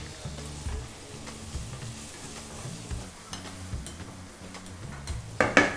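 Steady crackling sizzle of ginger and onions frying in a pan for dal tempering, with stirring scrapes and a brief louder burst near the end.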